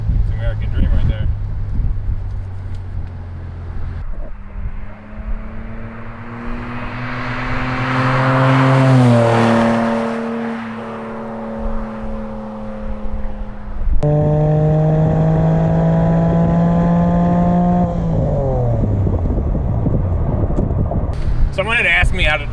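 A cheap Porsche 911 fitted with an upgraded performance exhaust, top down, revs up loudly, drops back and then holds a steady, droning pitch, with wind noise throughout and a short burst at the end.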